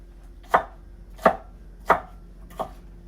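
Four evenly spaced, sharp knife chops through vegetables on a cutting board, close and distinct, the last one slightly softer, with no talking.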